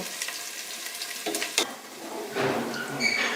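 Onion and garlic paste sizzles in a pan as it is stirred and fried until browned, with steady frying hiss and a few scraping stirs and utensil knocks close by.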